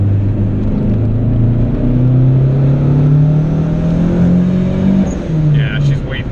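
A turbocharged Honda GSR hatchback on about 8 to 9 pounds of boost pulls hard in third gear, the engine drone rising steadily in pitch as revs climb, loud and close from inside the car with a brief dip near the end.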